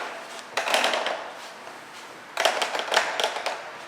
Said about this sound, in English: this wood rubbing up against this wood.